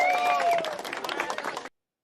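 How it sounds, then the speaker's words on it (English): A short burst of clapping and cheering from a group, lasting under two seconds before cutting off abruptly. "Round of applause for Gavin."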